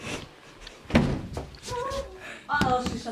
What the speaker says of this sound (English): she shut the door